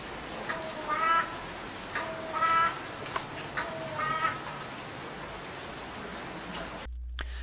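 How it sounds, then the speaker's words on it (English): Crows caw in three distinct harsh bursts spaced about a second apart, fairly close and clear over a soft outdoor hiss, followed by quieter background. "Muslims show us birds calling the name of Allah."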